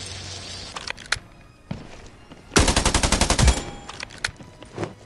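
Gunfire in the mobile battle-royale game Scarfall 2.0 on the Mumbai map: scattered single shots, then a rapid automatic burst of about a dozen rounds, with softer footsteps and game sounds between, no talking.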